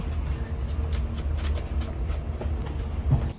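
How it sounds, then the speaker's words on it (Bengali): Passenger train starting to move at the Kazakhstan–Uzbekistan border crossing, heard from inside a carriage as a deep rumble with rhythmic wheel clacks and creaks, steady and close. "55 মিনিট পর আমাদের ট্রেনটা চলতে শুরু করলো।"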